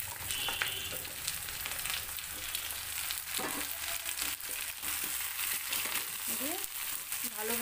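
Ridge gourd and stems tossed into a pan of fried onions, a dense steady sizzle with scraping and crackling from stirring throughout, close by and fairly even in loudness.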